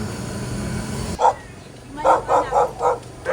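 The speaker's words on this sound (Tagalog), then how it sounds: "Ang cute yung mga aso niyo." A dog barks several times in a quick series of sharp, fairly close barks after a burst of background noise.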